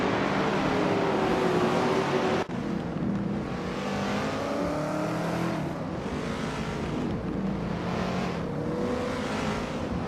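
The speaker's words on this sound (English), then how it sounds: "cruising along in a 1970 Chevrolet Chevelle SS" A 1970 Chevrolet Chevelle SS racing in a video game, its engine droning loudly and steadily for ten seconds with shifting pitch, one abrupt cut near the start, and other cars audible around it, no talk.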